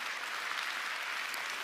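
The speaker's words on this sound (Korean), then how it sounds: "오늘 저에게 박수를 보내주신 여러분" Applause from the audience at a Korean business seminar, a steady, moderately soft patter of many hands heard from some distance, with no speech.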